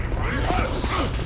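A video game weapon reloads with dense mechanical clicks and ratcheting creaks, held at a steady loudness over a busy low rumble for just over a second.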